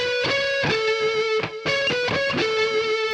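An electric guitar plays a fast neoclassical melodic minor run that descends note by note in quick, even picked steps, clear and close with light distortion and no talk.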